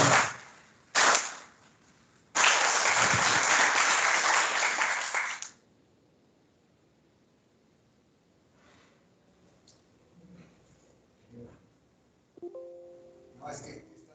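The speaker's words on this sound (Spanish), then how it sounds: "Vamos a recibir con un aplauso a los profesores." Audience applause welcomes professors at a seminar on intelligence in Industry 4.0 and 5.0: two short bursts, then a loud, dense stretch of clapping lasting about three seconds that stops abruptly, followed by quiet with faint voices and small noises.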